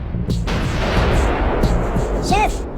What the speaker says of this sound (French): Bon sang, mais qui leur a donné des batteries d'artillerie?